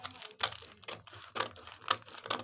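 Scissors cutting a paper corset pattern, a series of quiet crinkling paper snips and rustles in uneven bursts, close and faint, no voices.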